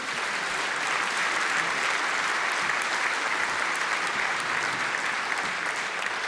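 A gala audience at the Polish football association's centenary ceremony gives steady applause to award-winning strikers, a continuous dense wash of clapping at even loudness from start to finish.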